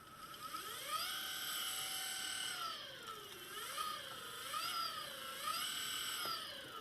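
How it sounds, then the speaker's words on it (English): An electric hub motor, wired straight to its phase and hall sensor leads, spins up under throttle: a whining electric tone that rises, holds, then dips and climbs again in several surges, close and steady with no voices. "as you can see, spins up a motor just fine"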